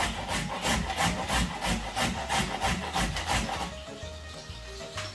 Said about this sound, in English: we're going to grate that and add that to the onions